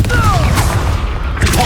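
A Confringo fire spell blasts in the video game Hogwarts Legacy with a heavy, booming burst and rumbling crackle, loud and close, with a brief rising whoosh as it fires and game voices mixed in.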